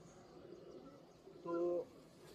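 Teddy pigeons kept by a fancier give one short, soft tonal coo partway through a quiet stretch, with faint background murmur around it.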